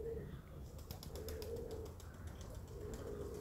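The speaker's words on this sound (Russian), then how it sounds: "Вот они еще голуби." Pigeons coo softly in repeated low, rolling calls, with a faint flutter of wings partway through and a quiet background hum.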